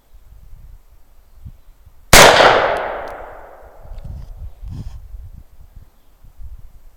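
A single loud crack from a custom AR-15 rifle fired at a blue can outdoors, with a long decaying echo after it and quiet voices murmuring before and after the shot.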